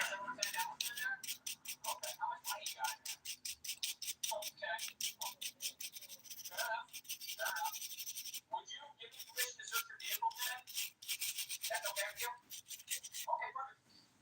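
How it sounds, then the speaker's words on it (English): Nail brush scrubbing fingernails wet with rubbing alcohol, a quick, steady rhythmic bristly rasping close up, in short strokes broken by a few brief pauses. "I'm using rubbing alcohol here. And a nail brush."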